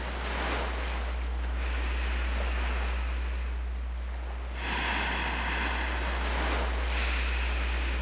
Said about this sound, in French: Le va-et-vient des vagues, le chant lointain des mouettes et le souffle du vent agitant les rideaux